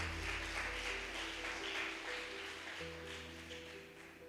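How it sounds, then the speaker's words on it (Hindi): An audience at a church sermon applauds in a continuous wash of clapping, fairly soft and distant, with a steady hum underneath. "ताली नहीं बजाओगे?"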